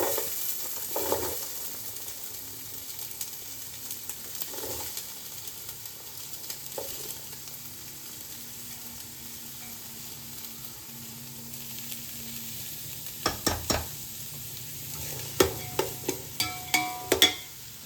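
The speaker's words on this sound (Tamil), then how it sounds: "நல்லா வெங்காயம் கொஞ்சம் வதக்கிட்டோம்." Chopped onions and tomatoes sizzle and sauté in a pan for veg rice, a soft steady frying hiss broken by occasional stirs, with a run of sharper scraping clatters near the end.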